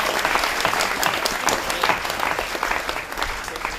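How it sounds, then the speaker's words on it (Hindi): Sustained, enthusiastic applause from a theatre audience after a staged performance of Kabir at the Bharatendu Natya Academy, evenly dense throughout with no speech. "एक बार फिर से जोरदार तालियों से इनका स्वागत किया जाए"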